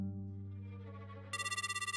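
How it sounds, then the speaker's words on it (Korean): A phone's ringback tone sounds as an outgoing call connects, a steady electronic ring pulsing in a regular rhythm over a low background hum, starting partway through and continuing to the end. "누군가한테 전화를 걸었는지 신호음이 가더라고요."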